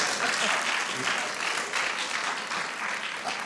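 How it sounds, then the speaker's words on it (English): Lecture audience applauding steadily throughout, a dense even wash of many hands clapping at moderate loudness, with no pauses. "Give her a round of applause, please."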